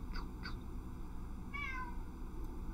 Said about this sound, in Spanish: Ah, el gato.